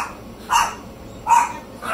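Two sharp dog barks, spaced apart, followed by the start of a third, fairly close and loud.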